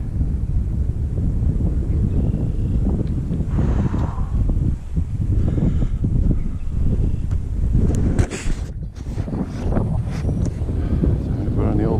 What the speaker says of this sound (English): Damn. Cold again. Or windy, I mean.